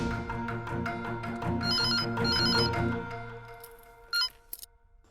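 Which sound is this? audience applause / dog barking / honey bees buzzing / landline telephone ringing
landline telephone ringing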